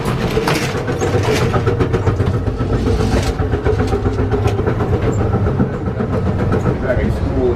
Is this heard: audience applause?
no